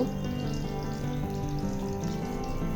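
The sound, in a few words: batter-dipped capsicum chop dropped into hot oil to fry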